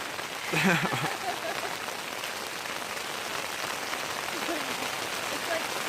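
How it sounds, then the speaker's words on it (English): Steady dense patter of hail striking a surface at a campsite, continuous throughout, with a brief voice near the start. "Oh, it's hailing."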